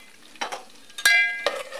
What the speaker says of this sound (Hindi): साबित ज़ीरा जो है वो भी इसके साथ फ्राई करेंगे